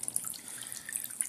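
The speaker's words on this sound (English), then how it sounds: "Whoa, there it comes. There it is. And there's the fountain." Water gushes and splashes steadily from a small fountain, a close, hissing trickle with faint drips and no voices.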